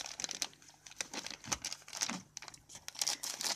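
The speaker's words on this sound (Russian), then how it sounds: "Это у нас распаковка чехла для Lenovo K3 Note с интернет-магазина GearBest." Plastic packaging crinkles and rustles up close during the unboxing of a Lenovo K3 Note phone case, with irregular crackling handling noises throughout.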